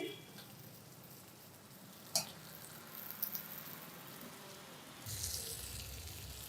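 Jaggery fritters (bellam garelu) frying in oil give a faint steady sizzle close by, with a couple of brief clatters and a louder burst of bubbling near the end.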